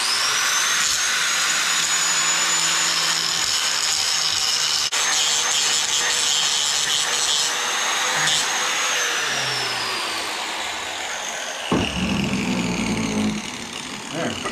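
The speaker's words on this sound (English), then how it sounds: "I'm gonna grind this crap off of here, and hopefully that'll let that brake drum fall out" An angle grinder bites into metal on an Allis Chalmers B tractor brake drum, giving a loud, sustained whine that sags and recovers under load, then breaks off into clanks and a brief rattle near the end.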